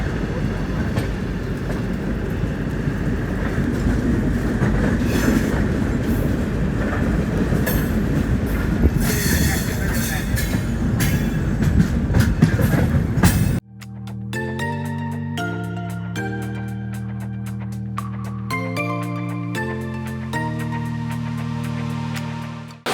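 The Coromandel Express rolls into Vijayawada station in heavy rain, with a loud, steady rumble and rhythmic clickety-clack of wagons for about fourteen seconds, then an abrupt cut to a melodic tune.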